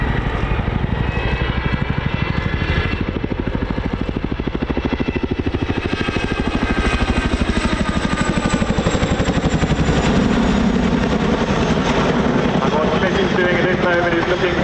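A Chinook twin-rotor helicopter flies a display at the RAF Cosford Air Show, its loud, steady rotor thump and engine roar continuous throughout as it pitches nose-down to gather airspeed.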